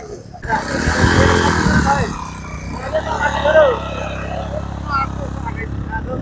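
A motorbike carrying riders on an outing through a scenic riverside garden area of Nijhum Dwip, Hatiya, Noakhali, roars loudly nearby, its engine note rising then settling into a steady drone as it passes.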